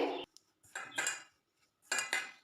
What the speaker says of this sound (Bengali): এই শুকনো উপকরণগুলোকে আমি খুব ভালোভাবে মিশিয়ে নিচ্ছি একসঙ্গে